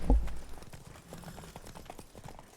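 Hooves of Roach, the horse in The Witcher 3 Blood and Wine, clip-clop toward the listener at a steady walking rhythm after a loud thump at the start.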